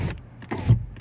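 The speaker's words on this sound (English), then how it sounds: "It's even got electric windows." Electric windows on a 2022 Skoda Fabia SEL 1.0 petrol hatchback operate in a short burst of motor whir and clunks, close up, with no talk.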